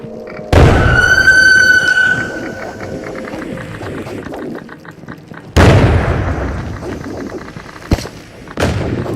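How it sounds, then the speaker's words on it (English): A grenade in the game Into the Radius sets off a chain of detonations: a loud close blast at the start, a second heavy boom partway through, then a sharp crack and a final burst, each trailing off in rumbling echoes, with no talking. "it sets off a series of detonations."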